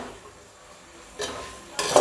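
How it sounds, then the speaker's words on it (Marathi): Spices for vegetable biryani being stirred in a pan, quiet scraping with a couple of brief louder clatters of a spoon against the metal pan. "आता हे मिक्स करून घेऊया."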